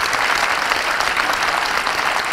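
Warm, sustained applause fills the room at an awards night in Lons-le-Saunier as a first trophy is handed over, a thick even wash of many hands clapping at once, loud and continuous with no speech.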